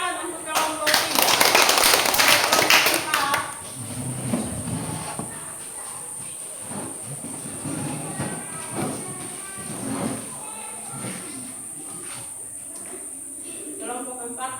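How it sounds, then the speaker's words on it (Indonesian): A classroom audience claps for group 3 during a model teaching practice, a brief burst of loud close clapping for a few seconds, then fades into quiet talk and room noise. "Tepuk tangan untuk kelompok 3."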